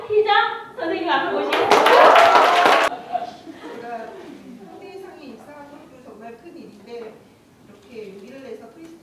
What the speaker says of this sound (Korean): 제가 이분을 호명을 하게 되면 아주 큰 박수 부탁드리겠습니다.